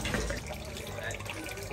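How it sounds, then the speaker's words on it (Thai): Water scooped and poured for hand washing at a shrine purification basin trickles and splashes briefly, close and soft, with outdoor ambience behind it. "ตักน้ำมาล้างมือลูก"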